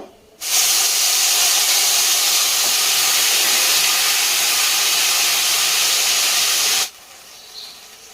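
Garam masala spices and paste frying in a pan for paneer curry, a strong, steady sizzling hiss that starts abruptly and holds evenly for about six seconds before cutting off, with no talking.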